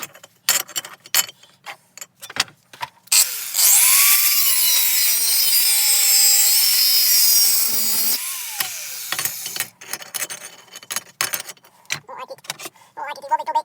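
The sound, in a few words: grinder working on car compressor pump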